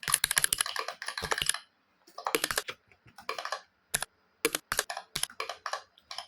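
Rapid bursts of close, crisp computer keyboard clicks while Python code is typed, coming in uneven clusters separated by brief pauses.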